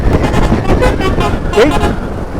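A vehicle horn sounds during a group motorcycle ride, a sustained honking tone heard under loud, continuous talking from people nearby.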